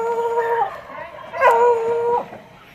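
A pet dog indoors lets out wavering, high-pitched howls in two drawn-out stretches with a brief dip between, close and fairly loud, with a faint yip-like edge.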